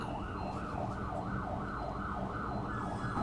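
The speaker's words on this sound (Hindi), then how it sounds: "एम्बुलेंस जा रही है, चाँव चाँव आएगी" An ambulance siren wails in a fast, steady rising-and-falling pattern, loud and continuous over traffic rumble, with no talking.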